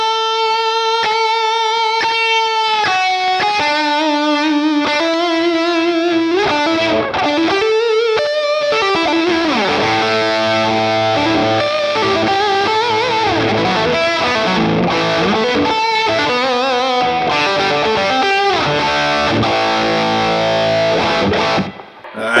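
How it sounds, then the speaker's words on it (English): Electric guitar played through a Boss Katana amp set to a Rat-style fuzz distortion, heavily saturated, with single notes, bends and sustained chords ringing out loud and continuous and no talking. "characteristic rat fuzz combination. Fuzz distortion."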